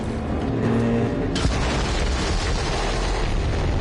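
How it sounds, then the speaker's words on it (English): A large explosion in Borderlands 3, set in a forest and destroying a train, lands as a sudden loud boom with a sharp crack, then a long rumbling echo. It sits over a steady bed of engine-like game noise. "The explosion echoed through the forest"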